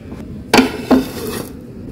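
A plate set down over a bowl of beguni batter gives two quick, close ceramic clinks about half a second apart, followed by a soft scrape, with quiet room tone around them.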